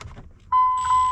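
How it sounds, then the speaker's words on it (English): Door buzzer in a 3rd Gen Cummins truck sounding after a ground wire is disconnected: a steady electronic tone that starts abruptly over low background rumble and holds. "I know that this ground is for the door buzzer, so once I take this off, it's probably gonna sound."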